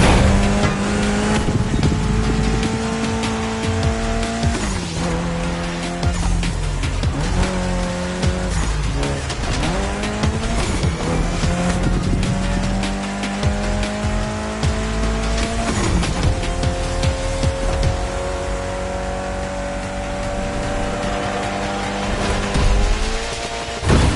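Race cars in the video game The Crew Motorfest roar with high revving engines and repeated tire squeals and skids, loud and continuous throughout with shifting engine pitch.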